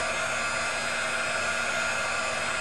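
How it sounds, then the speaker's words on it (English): A heat embossing tool blows steady, loud hot air across an acrylic plexiglass sheet, a continuous even whir with a faint hum beneath, running alone without pause. "if you heat emboss on acrylic, or this plexiglass, you have to move the heat around because this plastic will bow up"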